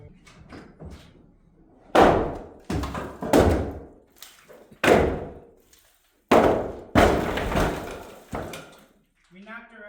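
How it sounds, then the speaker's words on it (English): Heavy wooden floor-framing beams are knocked loose during house demolition, giving a series of loud, booming thuds and crashes at irregular intervals, with quieter knocks between them and voices briefly at the end. "We knocked our other beam."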